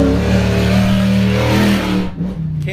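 A loud off-road race vehicle roars and revs hard over desert tabletop jumps during a High Desert 100 qualifying run, its engine note holding strong and then dipping briefly as it lands.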